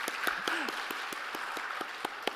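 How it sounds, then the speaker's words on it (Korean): A church congregation at a training send-off service claps, with scattered, sharp individual claps at an uneven rhythm over a steady murmur of applause, and a brief vocal sound near the start. "박수!"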